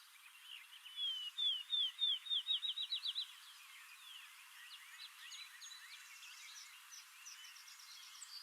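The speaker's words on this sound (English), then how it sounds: "So here's a field sparrow, which again," A field sparrow sings in summer grassland at Kankakee Sands, a faint, distant series of clear whistled notes that speed up into a bouncing-ball trill, followed by softer scattered calls from other birds.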